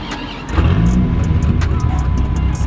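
A Dodge Viper with its stock exhaust revs loudly at close range, a deep, steady engine roar that swells after a brief pause and holds throughout.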